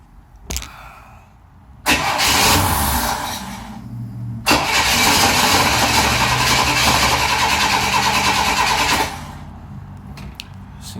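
A 1963 Chevy Nova's 194 inline-six cranks with a brief stutter, then catches and roars to a loud, steady run, cuts off, and fires again for several seconds before dropping back to quiet.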